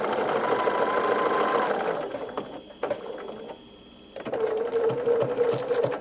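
Sewing machine stitching a foundation-paper-pieced quilt block, a close, rapid mechanical whir of needle strokes that pauses for a few seconds with small clicks and then starts sewing again.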